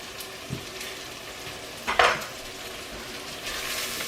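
Garlic drops into a pot of softened vegetables and sizzles steadily, with a spoon stirring and a brief louder scrape midway, all close and without talking.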